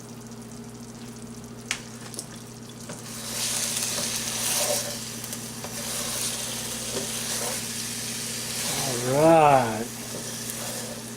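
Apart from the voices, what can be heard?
barbecue hot dogs sizzling in sauce in iron skillet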